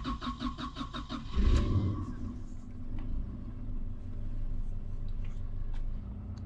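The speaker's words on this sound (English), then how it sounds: "Fires right up and holds a good idle." A car engine with a slightly hesitant startup cranks briefly, catches with a loud burst, and settles into a steady, low-revving idle nearby; no one talks.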